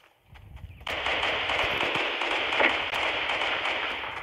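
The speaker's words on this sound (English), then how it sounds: "it just automatically shoots for me" Automatic weapon fire in the mobile version of Fortnite, a dense rapid burst that starts abruptly after a quiet lead-in and keeps going loud and steady to the end.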